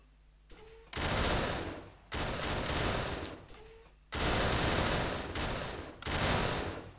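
Gunfire aimed at a bomb in the Pummel Party minigame: four loud, sustained bursts of rapid shooting, each lasting about a second or two, separated by short quiet gaps.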